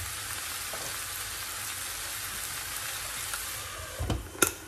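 Chicken in peanut butter and coconut milk bubbles and simmers in a covered pan, a steady soft sizzling hiss throughout, with a couple of brief clinks near the end.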